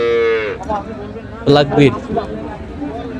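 A dairy cow at the Ambari cattle market in Dinajpur lets out a loud, drawn-out moo at the start. Shorter animal calls and crowd chatter follow, with people talking nearby.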